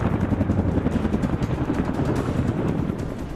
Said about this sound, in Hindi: अपाचे को दुनिया का सबसे खतरनाक युद्धक हेलीकॉप्टर माना जाता है